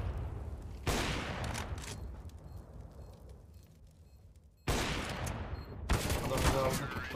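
Gunfire from the CS:GO video game crackles in loud bursts of rapid shots, separated by quieter stretches of background game noise.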